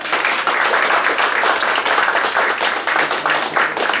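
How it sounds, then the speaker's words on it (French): Warm applause fills the room at the 2017 Fourchette d'or award at restaurant Le Tournant in Levallois-Perret, a dense, loud and even patter of many hands that runs without a break. "On peut vous applaudir"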